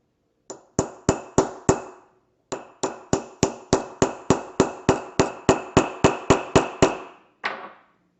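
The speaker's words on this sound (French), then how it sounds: "Je vais simplement prendre cette pièce et je vais taper" A hammer strikes a piece from behind on a hinged frame, with a quick group of four sharp taps, a pause, then a long even run of about fifteen crisp, ringing blows.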